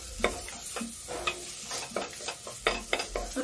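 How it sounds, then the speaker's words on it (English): Matumbo (tripe) shallow frying in a pan, with a steady sizzle broken by regular close scraping stir strokes. "Trying to shallow fry the matumbo now"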